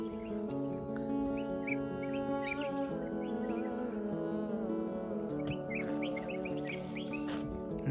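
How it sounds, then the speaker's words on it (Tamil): Parrots calling in the Megamalai hills, sharp chirps and squawks scattered through the clip over a steady layered background hum, with bursts clustered near the start and toward the end. "இங்கே அப்படியே கிளி வந்து கத்துற சவுண்ட்லாம் கேட்டுன்னு இருக்குது."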